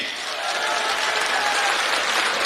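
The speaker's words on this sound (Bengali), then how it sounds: "আমরা জোরে একটা করতালি দিই" Audience applause at an outdoor BNP rally marking World Teachers' Day, a dense, even roar of many hands clapping together, loud and sustained throughout.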